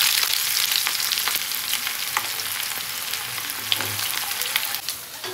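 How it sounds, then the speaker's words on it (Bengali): Onions hit hot mustard oil in a wok, giving a loud, steady sizzling hiss dense with crackling pops that slowly eases, with no voices. "তেল গরম হয়ে গেছে, দেব পেঁয়াজ"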